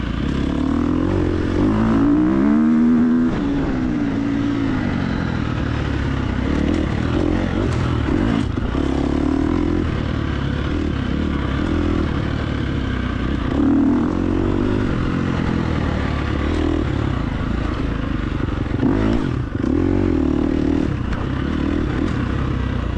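A dirt bike engine held at full throttle in the TORCS racing game during an off-road hare scramble: a continuous, loud, buzzing engine drone with slight pitch wavers for braking into turns, steady throughout without talk.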